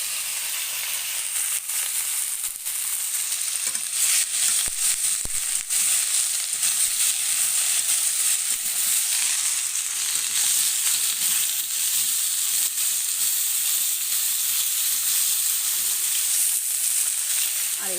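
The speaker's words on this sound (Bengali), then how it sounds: "এই যে তেলে জিরে দিয়েছি, দিয়ে সজনের ডাঁটা মাছ ভাজা আছে।" Cumin seeds and fish frying in hot oil over a wood fire in a home kitchen, producing a loud, continuous sizzle with crackling pops throughout and no speech.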